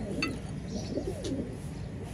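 Banarasi tournament pigeon in a loft, soft cooing sounding briefly over steady background noise, close by.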